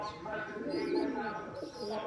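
Giribaz pigeons coo at a pigeon farm in Rajshahi, soft throaty calls rolling on close by with faint chirps mixed in and a murmur of background voices.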